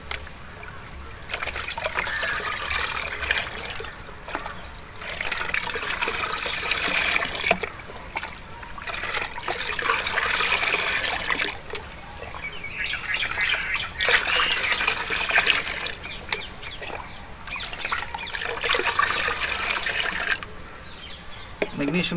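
Magnesium sulfate stirred into hydroponic nutrient water, with steady sloshing, trickling and splashing that comes in long swells with short pauses, close and fairly loud throughout.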